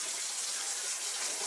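A kitchen faucet running steadily to fill a cooking pot with water for boiling potatoes, a constant bright hissing gush at moderate level, close by and uninterrupted, with no voices.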